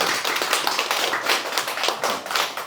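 A crowd gives a big round of applause to welcome the city council chairman at a Jeongeup commemorative panel discussion, a dense, steady clatter of many hands lasting throughout with no voices over it.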